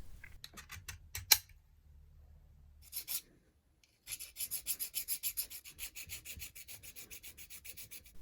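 Chamfers are removed by hand from a small metal mini lathe spindle-lock part, a quiet rhythmic rasping of repeated filing strokes, first scattered and sharp, then steady back-and-forth rubbing, with no talk.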